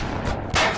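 An explosion in the video game Bioshock: a short, loud blast that bursts in abruptly after a brief low rumble and cuts off within a fraction of a second.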